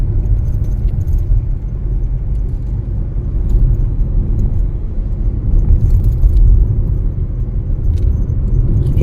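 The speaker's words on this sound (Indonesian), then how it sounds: "Ini truk besi yang membuat sejuk perjalanan." Iron-bodied truck driving along a road in Aceh Tamiang, a steady loud low rumble of engine and road noise with faint rattling throughout, no voices.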